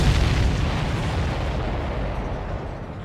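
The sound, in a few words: explosion of supply ship in Ace Combat 7 video game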